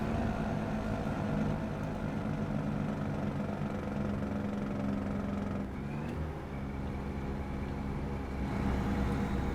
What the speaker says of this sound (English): Just that engine brake is so weak.